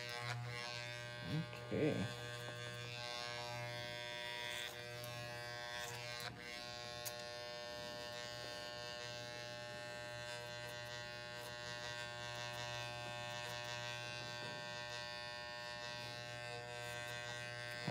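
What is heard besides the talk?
electric hair clipper buzzing during haircut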